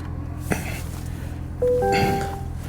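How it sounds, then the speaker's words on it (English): Power-folding side mirrors on a 2026 Corvette Stingray Z51 convertible give a short, close electric whir with a small click, set against a quiet background hum. "Fold in the mirrors."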